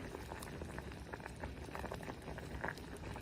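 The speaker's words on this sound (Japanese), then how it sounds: "ぐつぐつ煮込みます。" Soy milk sesame hotpot with carrot, napa cabbage, burdock and pork bubbles at a steady simmer, giving a soft, continuous stream of small pops and gurgles, close but quiet.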